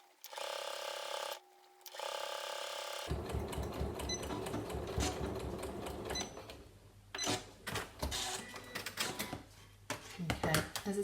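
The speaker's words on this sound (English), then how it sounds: "I'm going to top stitch along there now, just to match the other side." A domestic sewing machine runs in steady stretches while top stitching fabric on a double pocket zip bag, with brief pauses and a burst of faster needle chatter near the end.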